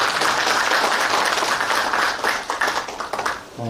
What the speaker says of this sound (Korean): 발표를 해주신 최현주 학장님께 다시 한번 큰 박수 부탁드리겠습니다.